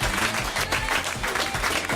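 A television comedy show's studio audience applauds warmly, a dense, steady wash of clapping throughout.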